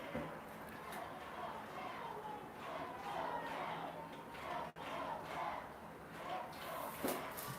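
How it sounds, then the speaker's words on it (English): Capital Comets fans make sustained crowd noise and cheering during a men's college lacrosse semifinal, a steady moderately distant roar with occasional louder shouts under commentary. "Capital making a lot of noise,"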